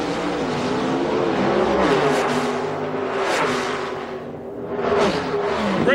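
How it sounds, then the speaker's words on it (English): Alcohol funny car drag racing down the track at the 2006 IHRA Rocky Mountain Nationals, a loud, continuous engine roar that swells and fades as it passes, with no talk over it. "Charlie Taylor's car in the far lane"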